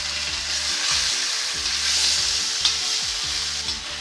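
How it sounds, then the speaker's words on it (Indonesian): Fish fries in a pan of hot oil for a soup, giving a loud, steady, close sizzle with a faint repeating pulse running under it and no talking. "goreng ikannya jangan terlalu matang ya teman-teman, karena ini mau dibuat sup"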